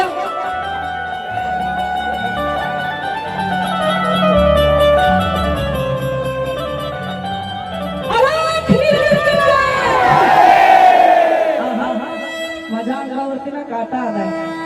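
A crowd at a devotional singing program for Jalindar Nath shouts and whoops loudly on cue, swelling into a raised roar over the second half, with musical tones and a voice sounding beneath it.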